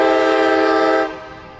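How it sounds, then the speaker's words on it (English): A train passing through Montgomery, Alabama sounds a loud, sustained multi-tone horn blast that cuts off after about a second, leaving a fainter rumble. "And there's a train coming."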